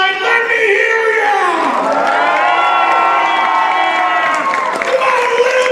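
A theatre crowd at a live event cheers, whoops and shouts loudly and continuously, with a sustained roar of many voices and scattered applause throughout.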